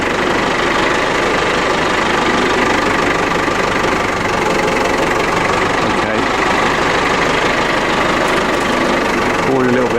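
A farm loader's diesel engine runs steadily up close during muck spreading, a constant knocking idle rumble with vibration filling the whole stretch, with no pauses.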